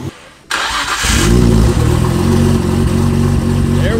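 A Nissan R34 GTR engine fires up with a sharp burst, revs briefly, then drops into a loud, close idle with a rhythmic, uneven lope.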